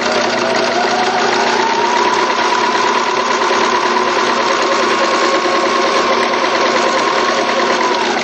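Sewing machine running continuously while stitching a seam line on gear fabric, a steady, even mechanical whir held at constant speed for several seconds without pause or voices.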